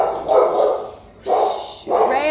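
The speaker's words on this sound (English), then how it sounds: "my dog's freaking out" A pet dog upset by thunder barks indoors in three loud, drawn-out, whining barks, close by and with no talking between them.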